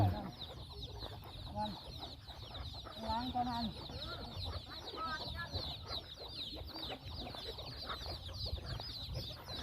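A large flock of chickens clucks continuously at a farm by the rice fields, with many overlapping calls close by and all around in a dense, busy chorus and faint background voices now and then.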